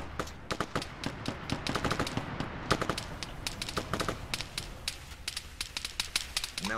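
Sustained gunfire in the video game Arma 3, rapid automatic bursts and single shots cracking in quick succession, loud and close with some echo, nearly continuous throughout.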